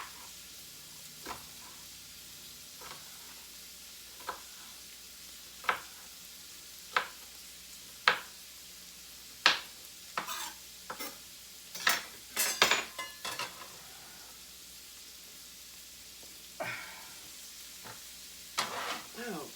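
Succotash vegetables with red pepper cooking in a pan give a soft, steady sizzle, broken by sharp clicks and taps of a utensil against the pan that cluster in the middle, heard close.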